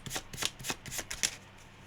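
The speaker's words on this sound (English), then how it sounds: "I'll do a shuffle anyway and pull you another one." A tarot card deck is shuffled in a quick run of about six crisp, riffling bursts, close and fairly quiet, with no voices.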